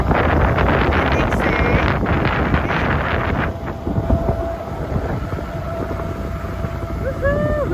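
Wind gusts buffet a sailboat motor sailing under engine, a loud, rough, steady roar with the churning of the boat, easing slightly midway then surging again.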